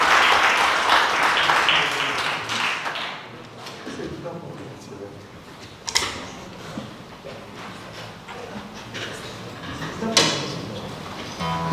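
Audience applause for a musician at a book presentation in Sersale, Calabria, loud and dense at first, then thinning to scattered claps with a few sharp knocks.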